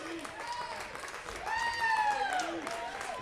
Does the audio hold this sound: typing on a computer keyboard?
no